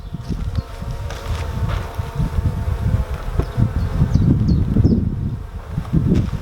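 Honey bees swarm around an open beehive during a calm inspection, a dense, continuous low buzz rising and falling as many insects fly close by, with no one talking.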